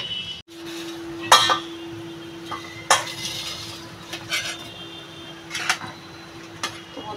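Metal pots and utensils clink and clatter in a home kitchen while fish and vegetable curry is prepared and a pot is covered with its lid, with several sharp close knocks over a low steady hum.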